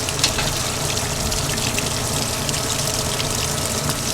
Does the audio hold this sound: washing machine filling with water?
yes